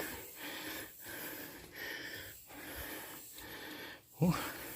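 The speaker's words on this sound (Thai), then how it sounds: "เสียงหอบ" Heavy, rhythmic panting breaths close to the microphone while climbing to Phra That Phu Khao Ngoen, Khemarat, Ubon Ratchathani, repeating roughly every second, ending with a louder gasping exhale.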